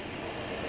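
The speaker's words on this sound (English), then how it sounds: "Engine sounds good." A 2013 Chevrolet Cruze LS engine idles in a steady, even mid-pitched hum, faint and continuous with no talking over it.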